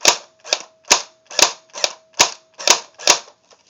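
An AK47 airsoft gun firing on semi-auto: eight crisp, evenly spaced snapping shots about half a second apart, close and loud, with a faint hum between them and no talking.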